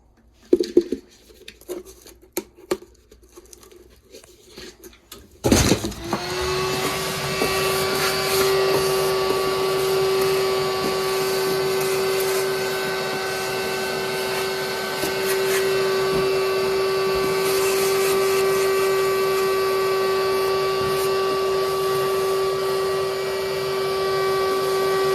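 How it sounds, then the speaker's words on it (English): A vacuum cleaner starts after a few seconds of clattering handling and then runs with a loud, steady whine and roar, close by, while cleaning out the inside of an open Ruud LP furnace. "I'm just gonna vacuum this out while it's open."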